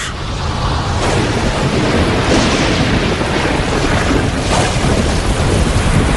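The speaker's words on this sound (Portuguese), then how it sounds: "enquanto o planeta esfria, a chuva cai, formando poças, lagos e, eventualmente, os nossos oceanos" Heavy rain pours steadily and loud with a dense hiss. Low thunder rumbles roll underneath throughout, with no voices.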